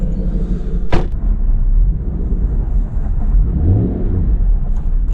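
An Aston Martin engine rumbles loudly up close and swells as the throttle is pressed, with a sharp transient early on and a steady low roar throughout.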